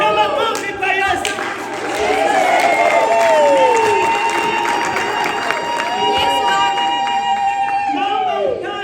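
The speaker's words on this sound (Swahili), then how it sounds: "Leta makofi kwa Yesu." A church congregation breaks into loud, sustained clapping and cheering, with a dense crowd of hands and a few raised voices and whoops over several seconds.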